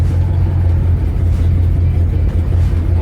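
A 1971 Chevrolet Chevelle V8 running right after starting, a deep, steady low rumble at idle that holds loud and even throughout with no voices.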